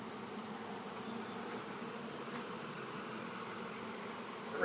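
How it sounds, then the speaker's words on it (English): A honey bee swarm gathered at a canister makes a soft, continuous buzzing drone. It is faint and even, heard alone without voices. "You can see the bees moving in."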